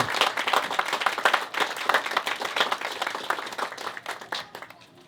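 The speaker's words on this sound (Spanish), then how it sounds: "Por favor, les damos un fuerte aplauso." An audience applauds presenters of a book on the Morisma and parish of Pánuco, a dense burst of many hands clapping, steady at first and thinning toward the end.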